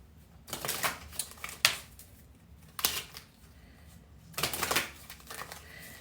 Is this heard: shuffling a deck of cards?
yes